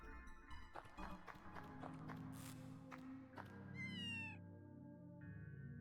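A cat meows in the video game LISA the Painful, a few short calls and then a rising, wavering meow amid game music and soft tapping footsteps, with a brief chime near the end.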